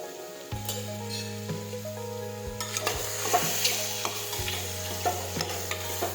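Ridge gourd curry frying in a pan with turmeric, cumin and sugar, a spoon stirring through it in scrapes and clinks over a steady close sizzle, with a low tonal hum underneath and no talk.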